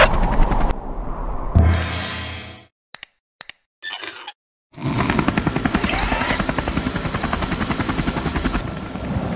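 A helicopter hovers outside in the Henry Stickmin game, its loud, dense rotor chop filling the second half. It follows a brief mechanical burst and a few sparse clicks and ticks in a near-silent stretch.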